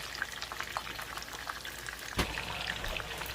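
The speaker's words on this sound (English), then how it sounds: "this is the next batch that we frying up" Hot oil crackles and sizzles steadily with scattered pops as chicken tenders fry, close and fairly quiet, with one sharper clatter partway through.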